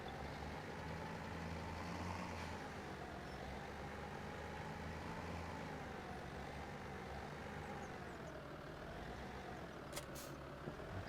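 A tractor in Farming Simulator 17 hauls a bale trailer, giving a steady droning diesel engine hum with a slowly wavering pitch, constant and even, with a couple of short clicks near the end.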